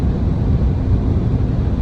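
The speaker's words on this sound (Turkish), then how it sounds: "rüzgar sesi geliyor" Steady, loud broadband rushing of wind against a moving SsangYong Musso Grand, heard from inside, constant and unbroken with no voices.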